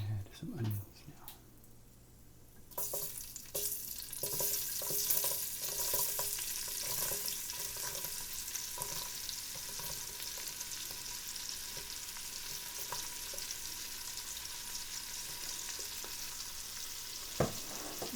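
Onions tip into a hot pot of browned pork for stew, bursting into a loud, close, sustained sizzle that carries on steadily with stirring and light scraping after a quiet start.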